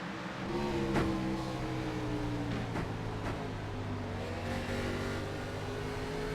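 A race car engine drones steadily on a track at a Richmond auto racing event, heard from a distance with shifting pitch as it runs, a few brief sharp clicks breaking through.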